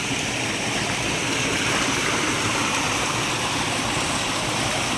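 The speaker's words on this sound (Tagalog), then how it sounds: "ilog po ito uh, sapa pero ganyan po sa kalinis oh" A clear creek flows steadily across a farm lot in the Philippines, a constant, full rushing and gurgling of water heard close up with no voices.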